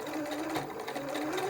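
A sewing machine runs steadily, stitching elastic onto a fabric face mask with a fast, even mechanical whir close by and no talking.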